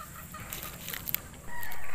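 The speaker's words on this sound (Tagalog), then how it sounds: "Maganda pong manok ito." Gamecock rooster of a street-comb strain clucking close by in a yard, a few short clucks amid steady background noise, with a louder broadband rush taking over near the end.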